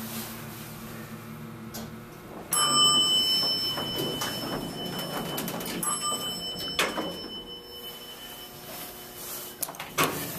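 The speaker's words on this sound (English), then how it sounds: "Door closes when we push the button." A Montgomery hydraulic elevator door slides shut in an office building in Worcester, with steady electronic chime tones, a sustained mechanical hum and light clunks, fairly close with no talking.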